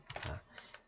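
A few faint, quick computer keyboard clicks from pressing a key such as F12, sharp little taps close by in a quiet room with no talk.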